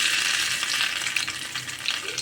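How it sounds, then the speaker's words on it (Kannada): Green chilies, crushed garlic and homemade ginger paste fry in a pan with a dense, continuous close-up sizzle, a few light stirring touches scattered through it and no speech. "ಇದಿಷ್ಟನ್ನು ಸ್ವಲ್ಪ ಹೊತ್ತು ನಾವು ಚೆನ್ನಾಗಿ ಫ್ರೈ ಮಾಡ್ಕೊಬೇಕು"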